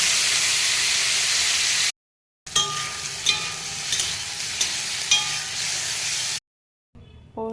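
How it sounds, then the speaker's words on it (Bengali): Paneer goes into a hot pan after fried potatoes and pointed gourd, the oil hissing and sizzling loudly while a utensil clinks and scrapes as it is stirred, broken by short silent gaps. "এবার পনির দিয়ে দিচ্ছি"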